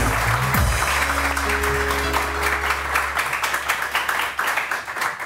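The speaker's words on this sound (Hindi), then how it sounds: "बहुत सारी तालियां डॉक्टर फजल के लिए, और बहुत सारी तालियां फजीला काजी के लिए।" A television studio audience claps for guests on a morning talk show, the applause rising over a sustained musical tone and continuing as dense, steady clapping.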